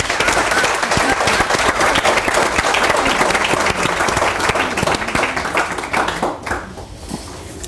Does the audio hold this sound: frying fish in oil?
no